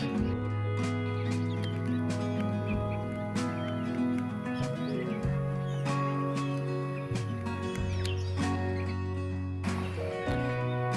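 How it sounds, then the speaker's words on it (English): Birds chirp and tweet in scattered bursts over a steady, dense background of sustained tones, with no voices. "Listen to all those birds."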